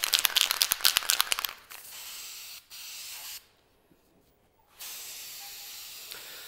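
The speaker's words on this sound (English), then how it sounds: "So go ahead and spray that there, Zach." Spray painting during a cabinet touch-up, with a string of short hissing spray bursts first, then longer steady hisses broken by a pause, all close by with no talk.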